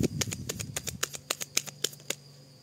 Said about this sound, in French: Les cartes qui s'envolent.